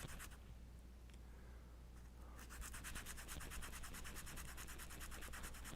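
Steady dry scratchy rubbing of sandpaper on a drawing eraser, quieter at first then a continuous rapid abrasive scrubbing, like fine sandpaper worked back and forth close up.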